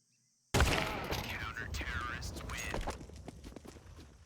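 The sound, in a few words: gunshots in Counter-Strike video game match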